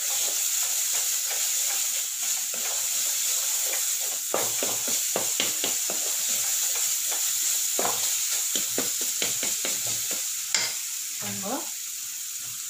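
Chili powder and coriander powder being sautéed with spices in a pan for a jackfruit seed gravy, giving a steady sizzle throughout with repeated scraping stirs of a spoon, plus a few brief spoken words.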